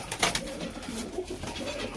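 Soft pigeon coos murmur through a busy, noisy background, several low calls overlapping without a clear rhythm.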